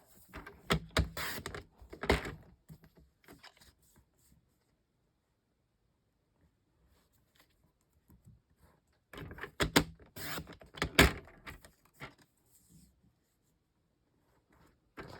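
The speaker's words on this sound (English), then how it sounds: "I'm going to turn this back around and I'm going to cut 1-inch strips." Patterned paper being cut into 1-inch strips for folded notecards, heard as two separate bursts of crisp cutting and paper handling with a quiet pause between them and no talking.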